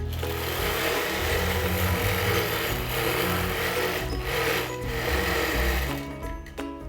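A long arm quilting machine stitches a T-shirt pillow in a steady, loud, continuous mechanical whir that holds evenly for several seconds before tapering off near the end.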